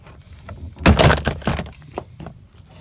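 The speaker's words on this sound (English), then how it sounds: "you're just gonna peel back on this this panel until you can pop them off" Plastic retaining clips pop loose as a door panel is pried off a 1998–2002 Dodge Ram 2500, a burst of sharp snapping and rattling around one second, then smaller clicks and handling noises.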